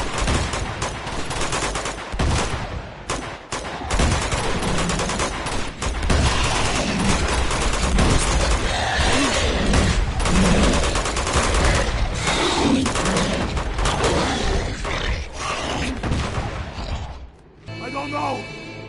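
Sustained enemy gunfire in the video game Uncharted 2, dense bursts and rattling volleys running nearly continuously and loud throughout, with voices talking over the shooting before it drops off near the end.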